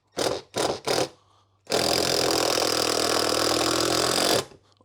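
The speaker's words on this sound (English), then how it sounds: "it makes like an impact noise when it comes under tension here" A power impact driver drives a long screw into wood. Three short bursts come first, then one sustained loud run of rapid hammering impacts, close up, which cuts off near the end.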